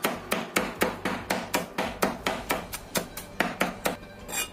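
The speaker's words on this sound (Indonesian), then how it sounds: "Ini agak kita cincang kalau bawang putihnya ya." A knife chops garlic in quick, even strikes, roughly a dozen crisp taps against a board in steady rhythm, close and clear, with no voices.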